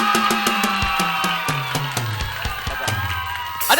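Crowd cheering and clapping at a game show after a contestant's singing, a busy, fairly loud wash of applause with rhythmic beats underneath and voices shouting throughout.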